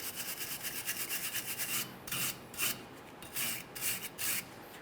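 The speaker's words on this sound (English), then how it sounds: "You can use a piece of sandpaper or a wire brush." Sandpaper or a wire brush scrubs the U-joint cap seats of a differential yoke on a 2007-2013 Chevrolet Silverado 1500, a close rhythmic raspy scratching in repeated back-and-forth strokes, alone.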